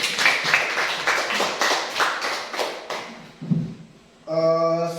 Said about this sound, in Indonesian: Tuh, tepuk tangan dulu